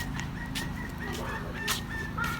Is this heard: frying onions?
no